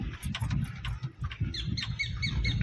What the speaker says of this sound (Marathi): पक्षी किती छान आवाज करतायत.